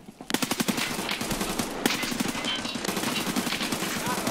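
Rapid automatic AK rifle bursts crackle in Escape from Tarkov Arena, a quick staccato string of shots starting after a brief pause and continuing through the clip under dense game noise, with faint voices.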